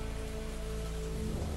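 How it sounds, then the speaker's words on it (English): Steady rain in an audio drama scene set outdoors in the morning, a dense even patter holding at a constant level. "The rain is picked up."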